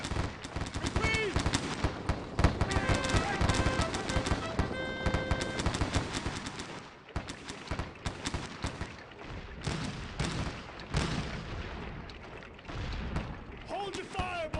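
Dense, continuous battle gunfire from the Gettysburg video game, with overlapping rifle volleys and bursts and booming blasts throughout, loud and near, while voices shout over the din.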